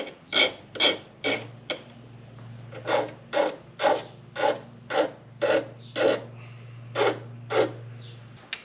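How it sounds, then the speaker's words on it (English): A hand file cuts a 45-degree chamfer around the end of a brake line flare: about a dozen rhythmic rasping strokes, close and evenly spaced, with a steady low hum running underneath. "filing a 45-degree chamfer all the way around of what you're doing"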